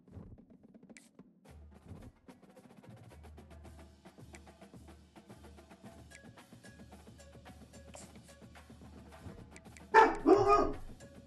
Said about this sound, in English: What are you barking at now, dog?